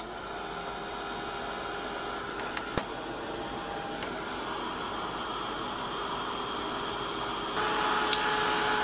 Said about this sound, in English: make sure your heat gun is hot